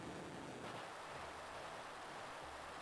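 Rushing water from the Waterfall move in the game Pokémon HeartGold: a steady, faint, hissing wash of noise that holds unchanged from start to finish, with no voices over it.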